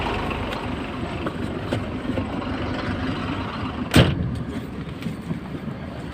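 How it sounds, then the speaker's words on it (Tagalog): A double-deck truck engine idles with a low steady rumble, and a sharp thump like a door closing comes partway through. "Ayan ang truck ko, double deck"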